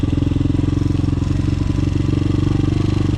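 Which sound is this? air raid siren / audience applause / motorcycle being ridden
motorcycle being ridden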